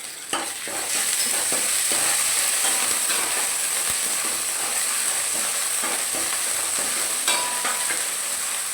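Red chili and onion fry in a pan for sambar, with a loud, continuous sizzle and hiss broken by occasional scraping stirs, heard close and steady throughout with no talk.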